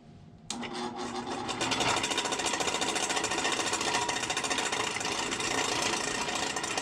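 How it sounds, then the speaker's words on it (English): A drill boring a 1/8 inch hole into a model control horn, starting abruptly and then running as a steady, close, dense buzzing whir with no one talking. "So I'm going to drill a hole right here, 1/8 inch, because that's what I want my hole to be in the control horn."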